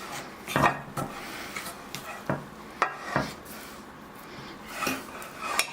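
A spoon stirs buttermilk biscuit batter in a bowl, making several soft scraping strokes and light knocks against the side at an uneven pace, close and fairly quiet, with no voices.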